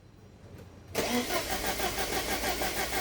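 A 1983 Porsche 944 with no power and a fuel-pump fault cranks over after a quiet moment, the starter and engine suddenly breaking into a loud, steady, pulsing churn that continues to the end.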